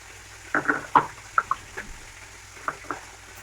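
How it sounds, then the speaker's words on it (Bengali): Fish fries in hot oil, giving a soft crackle broken by a few sharper pops and spits that come in short bursts and then ease off. "মাছটা ভাজা হয়েছে, নামিয়ে দেবো।"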